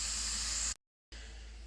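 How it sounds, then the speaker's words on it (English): Onion frying in a pan for jollof rice, a loud steady sizzling hiss that cuts to silence for about a third of a second, then resumes just as strongly. "let's go ahead and fry our onion"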